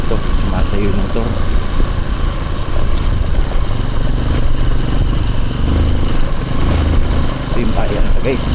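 A motorcycle rides over a rocky, sandy rural road, its engine droning loudly and steadily with rattling clatter throughout, close up and continuous.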